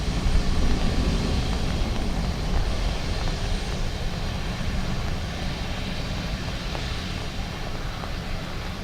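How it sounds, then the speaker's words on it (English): Aegean airliner landing at Dublin Airport on a wet day, its engines roaring loud and steady throughout as it rolls along the runway, with no voices. "Very smooth landing"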